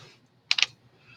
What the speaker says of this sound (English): I'm going to enter on my keyboard 2